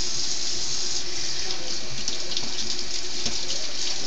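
Steady running water from a sink tap as a dish is rinsed beneath it, a continuous close splashing hiss that holds evenly throughout.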